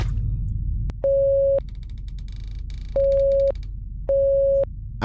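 Morse-style beeping in a horror video game: three separate steady electronic tones, each about half a second long, sounding loud and clear above a quiet, low background hum.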